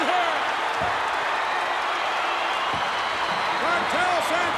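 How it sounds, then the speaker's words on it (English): A capacity wrestling crowd cheers and applauds in a dense, constant roar, with occasional thuds and a commentator talking over it. "This capacity crowd is electric."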